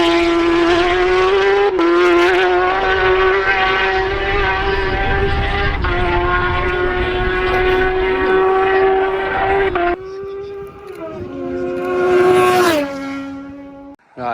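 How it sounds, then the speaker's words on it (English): Isle of Man TT racing motorcycles scream past on a mountain road course, a loud sustained high-revving engine howl that shifts pitch as the bikes pass, with a second rider following near the end. "you can hear the bikes coming from miles away, and you can hear them going."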